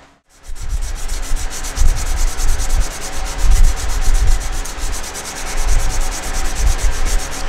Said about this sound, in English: Now that that's completely sanded down